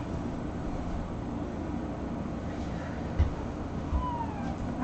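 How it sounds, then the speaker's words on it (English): Young kittens give a few faint, short meows over a steady hiss of background noise in an indoor playroom. "These are the cutest kittens I've ever seen."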